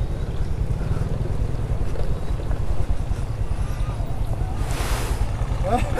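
Ocean waves break on the white-sand shore of Pantai Coro in Tulungagung, East Java, a constant loud roaring wash with wind buffeting the microphone and a brief hiss of surf near the end.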